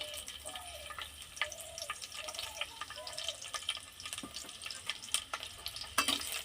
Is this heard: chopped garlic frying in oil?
yes